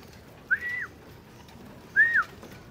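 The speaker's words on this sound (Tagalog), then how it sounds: "Ito na nga sila lahat mga kalapatids." Two short rising-falling whistled calls about a second and a half apart, clear and fairly close at a racing pigeon loft, with a quiet background and no talk.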